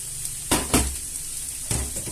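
Turkey and vegetables with wholegrain mustard stirred inside a Cookeo cooker, a soft sizzle broken by three distinct utensil scrapes against the pot, close and unaccompanied by speech.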